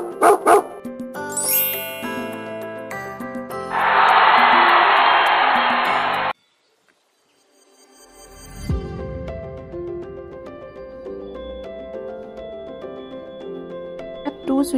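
A cartoon dog in the Brain Test puzzle game barks in a short electronic burst among chimes and jingling game tones, with a loud hiss midway and a pause before more tinkling effects.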